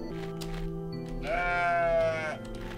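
Rams bleat in the video game OneShot, one long wavering bleat rising over a steady musical game background, close and fairly loud.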